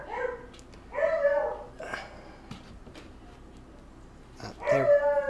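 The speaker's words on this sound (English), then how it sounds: "I'm sure you can hear my beagle in the background." A beagle whimpers and gives short yips in a few separate bursts, moderately close indoors, with quieter gaps between them.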